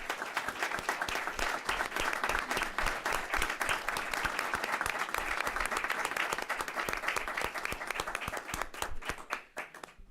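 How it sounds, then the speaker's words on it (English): Sustained audience applause fills a school board meeting room at a December session, dense steady clapping throughout before tapering off in the last second. "Please join me in giving them a round of applause."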